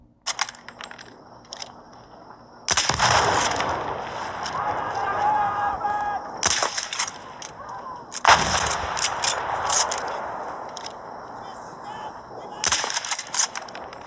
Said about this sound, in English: And now with the shooting game.